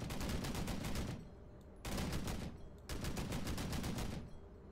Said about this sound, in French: le tir du véhicule